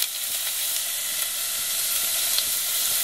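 Onion and garlic sizzling in a hot pan on the stove for eggplant parmigiano, a dense, even hiss of frying held close and steady throughout, with no talking.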